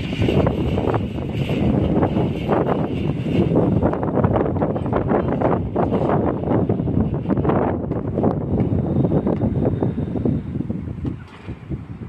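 Strong wind roars and buffets continuously, a loud rushing noise with gusty fluctuations that eases slightly at the very end.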